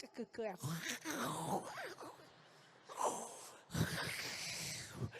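A woman imitates snoring with her voice, giving several rough, snorting inhaled groans and wheezes in short bursts, close and fairly loud.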